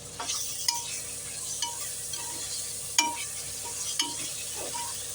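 Tomato paste stirred into frying spices in a pan for chicken biryani, with a soft continuous sizzle and a few sharp clinks of the spoon against the metal pan at irregular intervals.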